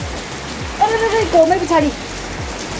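Rain falling outdoors in a hilly Pahadi village, a steady hiss of drops on surfaces with faint periodic low thumps, while a person speaks briefly over it.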